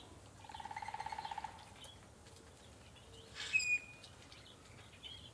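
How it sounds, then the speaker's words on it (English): Birds call outdoors in a garden at night, including a rapid pulsing trill followed later by a short sharp screech, fairly faint and set against a quiet background hum. "It's a noisy bunch here tonight with the birds."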